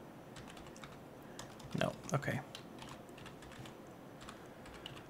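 Keys tapped on a computer keyboard during a modded Minecraft Stoneblock session, a brief cluster of clicks near the middle over a low steady background, with a voice speaking briefly.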